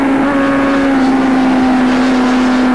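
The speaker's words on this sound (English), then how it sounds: "listen to the engines and the gearboxes being worked" A loud, sustained engine drone with a steady pitch from racing motorcycles at a 1987 Swann Series race at Calder Park, engines and gearboxes held at high revs, continuous for the whole stretch.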